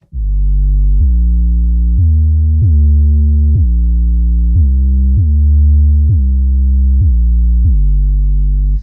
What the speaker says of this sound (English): The next one in my template is an 808 bass called 808 Studio